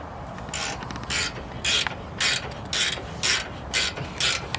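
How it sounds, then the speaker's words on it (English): A ratchet clicks in quick bursts while tightening a bolt through a car's coilover mount on a 370Z Nismo, about eight short clattering spells of ratcheting, close and fairly loud, separated by brief pauses with no talking. "Just ratchet it in there."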